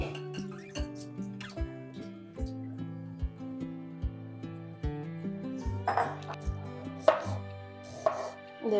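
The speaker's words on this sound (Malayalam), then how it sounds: "ഇതേപോലെ ചെറിയ കഷ്ണങ്ങളാക്കി അരിഞ്ഞെടുക്കാം." A knife chops broccoli into small pieces on a cutting board, a steady run of close, sharp blade taps that quickens toward the end with some clinks, and no voices.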